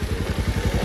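A motorcycle rides steadily along a village road in cool weather, its mid-pitched engine close and continuous with a pulsing, slightly clattering rhythm and no voices.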